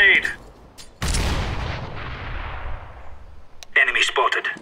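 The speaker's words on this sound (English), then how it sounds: "Throwing a grenade!" A grenade lands and explodes in Counter-Strike: Global Offensive on the Inferno map. One sudden loud blast rolls out into a long fading rumble, with brief game voices just before it and again as it dies away.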